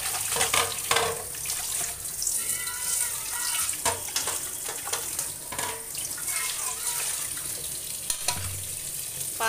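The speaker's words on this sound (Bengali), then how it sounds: "বেসিনে মাংসগুলো ঢেলে দিয়ে আবারও সুন্দর করে ধুয়ে নেব।" Meat, including the feet, rinsed under a running tap in a sink, water splashing and gurgling steadily with scattered knocks and clatters, fairly quiet and close.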